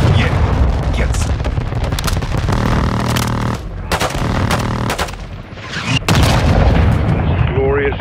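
Air strike explosions hit a building in Call of Duty: Modern Warfare II, a string of loud deep booms and blasts with machine-gun crackle between them and brief near-silent gaps, while voices speak over the chaos.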